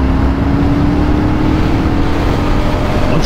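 Benelli Leoncino 800 Trail motorcycle pulling hard under acceleration, a loud steady engine drone with a rising tone filling the whole moment, overlaid with heavy wind rush and no speech.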